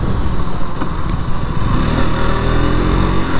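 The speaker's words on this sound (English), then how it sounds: "This engine has always been known to be a rev happy engine." A KTM RC 200 motorcycle engine revs loudly and steadily close by, a buzzing single-cylinder drone that holds throughout without talk.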